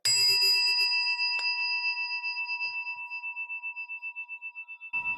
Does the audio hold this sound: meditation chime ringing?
yes